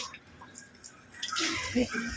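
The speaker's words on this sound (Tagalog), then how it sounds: "lalagyan natin siya ng tubig" Water is poured over cut shellfish to wash them, a soft splashing that starts quietly and swells into a fuller pour in the second half.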